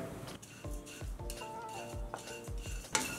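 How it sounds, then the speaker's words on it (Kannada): Rolled oats are dry-roasted over a low flame in a pan while a spoon stirs them. The spoon scrapes and clinks against the metal in a quick, regular rhythm, with a faint rustle of oats between strokes. The sound is close and quiet, with no speech. "ಲೋ ಫ್ಲೇಮಲ್ಲೇ ಹುರ್ಕೊಳ್ಳೋಣ."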